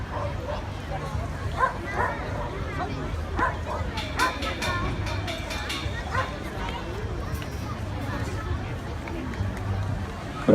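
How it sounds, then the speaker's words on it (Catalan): A Catalan sheepdog bitch barks and yips amid a lively crowd at a festival, the short barks scattered and partly masked by chatter and voices nearby. "és un gos d'Atura català, gossa"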